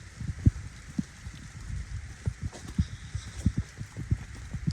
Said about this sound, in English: It's definitely raining harder.